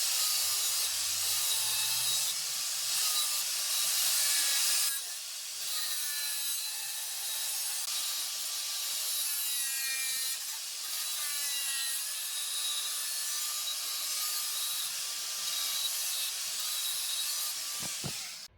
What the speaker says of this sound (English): I just need to drill a 40 mil hole, so I've bought this hole saw